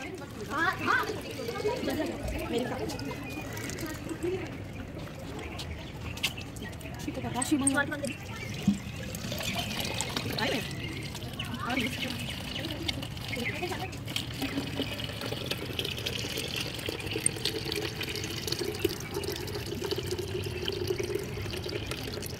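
Water running steadily from a tap at a busy water plant as containers are filled, a continuous close splashing and filling sound under ongoing talk.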